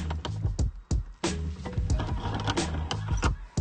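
Driver-side knob being unscrewed from the dashboard of a 5th gen Toyota SUV, a close, busy run of plastic clicks, rattles and scrapes with short gaps between bursts.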